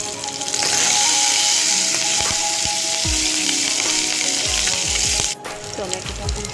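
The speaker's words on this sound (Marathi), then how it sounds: "आता आपण हिरव्या मिरच्या ज्या कापलेल्या होत्या त्या टाकून घेऊ, कढीपत्ता पण टाकून घेऊ" Green chillies and curry leaves sizzle loudly in hot oil with browned garlic, a steady dense crackling hiss with small stirring clinks, then the frying drops slightly quieter toward the end.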